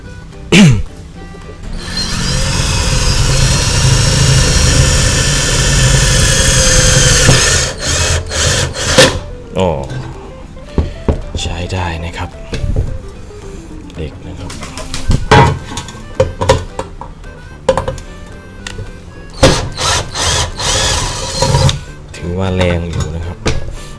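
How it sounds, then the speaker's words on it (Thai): An STR 95V cordless drill drives a steel screw into thin sheet steel, about 1.2 mm, with a loud, close whine for several seconds, then short bursts and clatter while someone talks. "เดี๋ยวลองเจาะเหล็กกันดูครับ"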